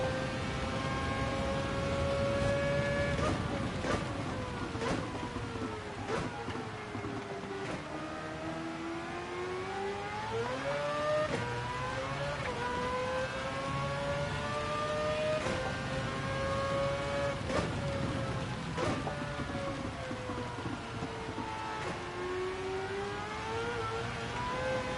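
A Mazda racing car in a video game drives and brakes on a wet track, its engine whining steadily and rising and falling in pitch through gear changes, with occasional sharp clicks, continuous and without talk.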